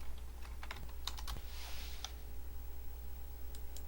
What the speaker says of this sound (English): you can type in your domain.